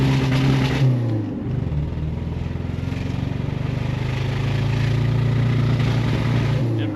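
A 1983 Turbo Coupe engine, started for the first time in 20 years and not running on all cylinders, idles loudly and revs with a steady rough drone, close up and alone.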